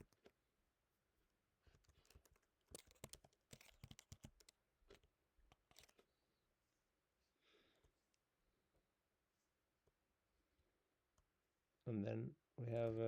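Keys on a computer keyboard clack in scattered bursts of quick, close typing and clicks separated by quiet pauses, and a voice comes in near the end.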